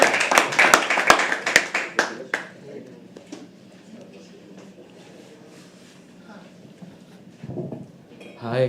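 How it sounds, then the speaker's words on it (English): An audience at a live poetry open mic claps energetically in a dense burst of sharp hand claps that fades after a couple of seconds, followed by a person talking over a quieter room. "Keep clapping, keep clapping."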